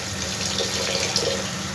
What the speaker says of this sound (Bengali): আর অল্প একটু জল দেবো।